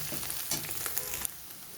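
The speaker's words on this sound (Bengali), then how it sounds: "এইভাবে আমি আরও কিছুক্ষণ ডিমের ভুজিয়াটা দিয়ে ভেজে নেব আরও কিছুক্ষণ" An egg and pointed gourd bhujia fries in a pan, a close, soft, steady sizzle with small crackles and stirring scrapes and no talk.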